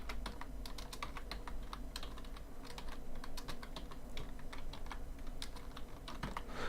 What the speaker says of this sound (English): Typing in all your names.